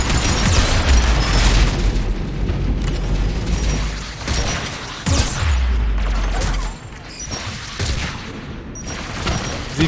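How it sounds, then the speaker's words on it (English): Rocket explosions in the video game Mass Effect 3, heavy repeated booms and blasts in a dense battle barrage, loud and close with bursts around the first, fifth and seventh seconds. "Oh my god, the rockets."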